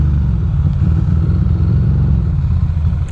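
A Ducati motorcycle engine rumbles steadily at low pitch while being ridden through night rain between Manhattan and Brooklyn, close and continuous with slight fluctuations in throttle.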